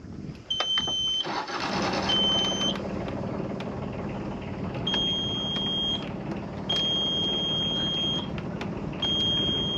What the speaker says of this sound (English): So sometimes the port engine doesn't want to start.